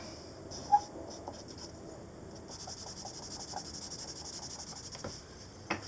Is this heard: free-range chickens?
no